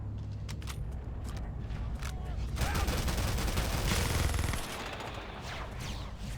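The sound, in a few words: gunfire in video game Halo CE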